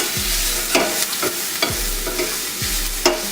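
Fresh garlic with shallots frying in a hot pan for an Italian pantry pasta, a steady close sizzle with a few sharp scraping stirs of a utensil spaced about a second apart, no talking.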